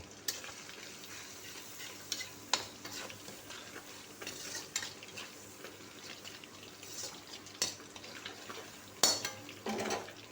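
Ground turmeric, cumin and chili powder frying in a pan, a quiet sizzle with intermittent clinks and scrapes of a spoon stirring against the pan.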